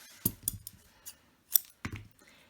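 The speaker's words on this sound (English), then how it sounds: "And I'm going to cut this off just a little bit." Scissors snip a cord end for a wooden bead on a handmade Christmas ornament, two close, crisp cuts, each a short metallic snap with faint rustling between, quiet and alone.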